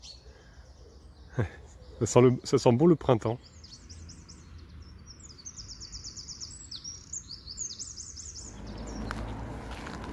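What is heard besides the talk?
small birds chirping outdoors in spring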